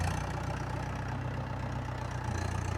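A tractor engine straining to pull a heavily packed trailer, a steady low rumbling drone running throughout at moderate level.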